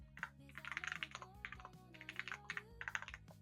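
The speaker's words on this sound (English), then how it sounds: "So I'm going to type up here." Quick, uneven clatter of fingers typing on a computer keyboard, close and steady in short bursts, with soft sustained tones running underneath.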